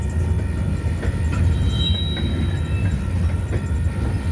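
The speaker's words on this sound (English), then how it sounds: "he's backing up to let another train come on these tracks right down here" Train backing slowly along tracks to clear the line for another train, a steady near rumble of rolling cars with faint wheel squeals and scattered clanks, no talk.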